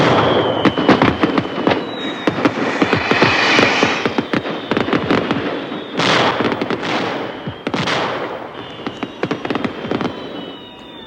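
Dense, rapid crackling bangs of firecrackers pop continuously, with several louder booming fireworks bursts standing out among the chatter of explosions.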